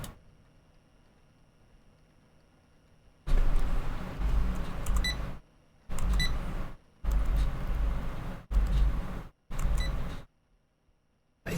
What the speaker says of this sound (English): That is such an awful beep.